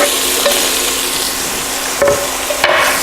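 Onion hits hot rendered guanciale fat in a pan for carbonara, giving a loud, steady frying sizzle throughout, broken by a few brief clatters and stirring knocks.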